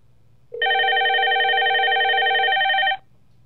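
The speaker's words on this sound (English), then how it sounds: "Go ahead and dial it in, and it should ring my soft phone here." A softphone on a FreePBX 13 system with Asterisk 11 rings for an incoming call over a Twilio SIP trunk: one steady electronic ring tone, about two and a half seconds long, clear and alone against faint background hum.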